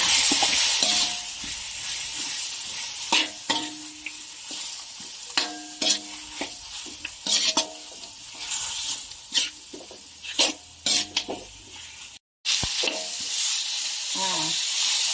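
Steady sizzling of chicken and minced pork stir-frying in a hot pan, with scattered clinks and scrapes of a utensil stirring, briefly cutting out near the end.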